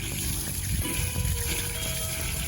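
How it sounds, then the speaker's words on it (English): Black, dirty water drains from a fire sprinkler system during a five-year inspection, a steady, fairly loud gushing rush of water that runs the whole time with no voices. "Get that black, nasty water out."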